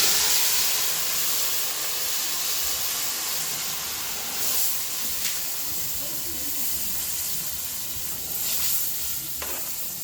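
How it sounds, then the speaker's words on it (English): Boiled pepper goes into very hot palm oil in a village kitchen for soup. It sets off a loud, continuous hissing sizzle with stirring that stays close and fills the whole stretch. "The palm oil is very hot, so I'm going to be adding my boiled pepper."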